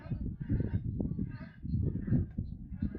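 Loud honking calls from geese or similar fowl at Wakodahatchee Wetlands, overlapping and continuous throughout, fairly close, with some voices mixed in.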